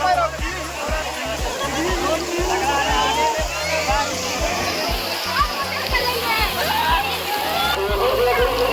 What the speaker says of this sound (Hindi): दोस्तों अब नहाने के लिए पानी में कूद गए हैं।